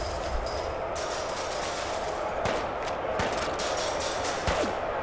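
Gunfire in Fallout 4's Nuka-World: a few sharp shots crack out over a steady background of game ambience, spaced irregularly through the second half and moderately loud.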